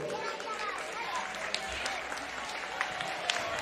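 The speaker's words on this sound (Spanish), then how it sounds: "un gran aplauso y vamos a darle esa bienvenida como él merece a Pedro" Applause at a San Pedro festival gala for seniors in El Ejido, moderately loud and steady with scattered sharper claps, crowd murmur and voices running underneath.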